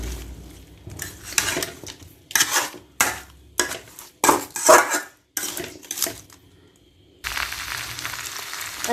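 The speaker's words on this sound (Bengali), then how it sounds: "সর্বপ্রথম ভালোভাবে আমগুলো কষে নেব। এইভাবে আমি 5 মিনিটের জন্য কষিয়ে নেব।" Mango pieces for pickle being stirred and fried in a pan, a series of loud metallic scrapes and clanks from a spatula in bursts, with quiet gaps between and a steady sizzle near the end.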